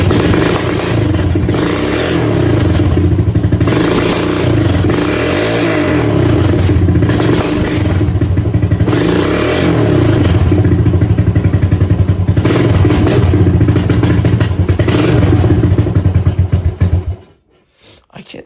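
A Suzuki LT230S QuadSport ATV engine fires and runs at close range, its loud chugging idle rising and falling in uneven surges before cutting out abruptly near the end.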